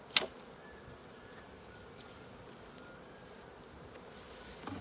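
Honeybees buzz around an open hive during a spring inspection, a faint, steady hum with a sharp click at the start and soft knocks near the end.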